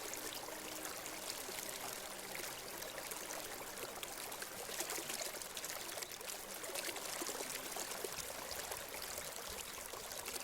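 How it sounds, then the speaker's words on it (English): River water flows steadily with a continuous, even rush and bright trickling splashes, close and unbroken throughout, with no voices. "Relax the efforts of concentrating on the sound and see what you can learn from the river again."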